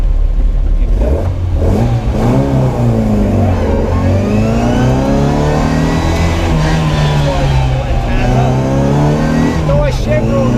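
A classic Mini revs hard and accelerates at the Sandown sprint on the Wight Speed Trials, its engine note climbing and falling loudly through the gears close by, with a person talking over it throughout.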